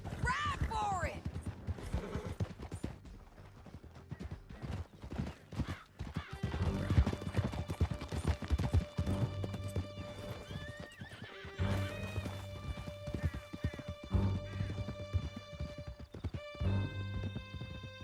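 Horses gallop hard through a canyon in a Red Dead Redemption 2 chase, with continuous clip-clop hoofbeats, a whinny, and riders shouting over the pounding, all close and loud.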